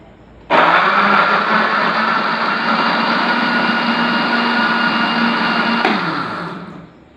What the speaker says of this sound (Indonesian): Sekarang kita blender.